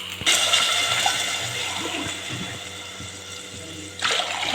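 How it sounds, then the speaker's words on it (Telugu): Water poured steadily into a cooking pot of rice, a continuous close splashing rush that lasts several seconds and swells again just before the end, with no voices. "త్రీ గ్లాసెస్ వాటర్ అయితే వేసేసుకోవాలి"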